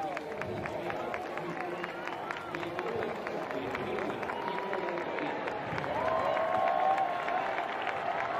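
Spectators clap and cheer during an armed forces parachute display in Huesca, an outdoor crowd heard at a moderate distance beneath a commentator speaking steadily, swelling slightly toward the end.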